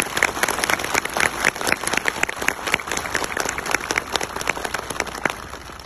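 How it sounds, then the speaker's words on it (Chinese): An audience applauds warmly at a government meeting, dense steady clapping from many hands in a room that runs throughout without voices. "让我们以热烈的掌声衷心感谢克强总理和国务院领导同志对大家的亲切关怀。"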